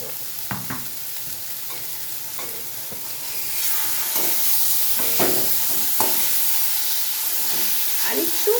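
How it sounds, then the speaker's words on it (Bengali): Taro leaves (kochu shaak) sizzle and hiss in a pan, with a steady frying bed that grows louder midway and several scraping stir strokes from a spatula, close and continuous with no talking. "আর এদিকে আমি কচু শাকটাকে আরেকটু একটু নাড়াচাড়া করে নেবো"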